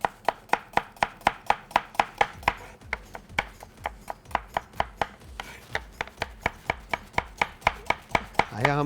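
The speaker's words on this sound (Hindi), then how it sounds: "अनियन को थिन स्लाइसेस में काटना है" A knife slicing onion into thin slices on a board, a steady fast rhythm of around thirty crisp, evenly spaced cuts, close and clear with no talk.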